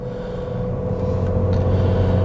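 A car engine with a P1191 fault held at full throttle, droning in a steady, sluggish low rumble that never climbs in pitch, continuous and fairly loud throughout.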